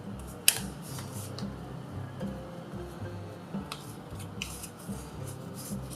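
A dollar bill folded into an origami star gives soft paper rubbing and creasing rustles, with one sharp crisp snap early on, close and faint with no talking.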